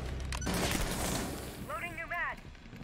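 A burst of video game gunfire crackles loudly in the first half, followed by a quieter stretch with a short warbling tone, while voices chatter over the shots.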